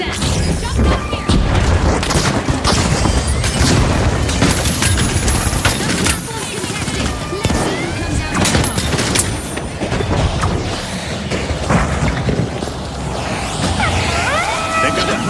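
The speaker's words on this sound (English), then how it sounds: "Frag grenade sent." A frag grenade blast booms amid continuous gunfire and crashes in the video game The Finals, loud and dense throughout, with a voice speaking over the fighting.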